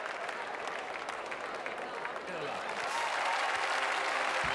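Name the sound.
Irish audience applauding at show jumping event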